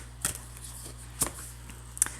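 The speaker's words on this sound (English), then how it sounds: "That's why I want to shuffle again," Tarot cards being shuffled by hand, heard as three short, crisp riffling snaps spaced about a second apart over a quiet room background.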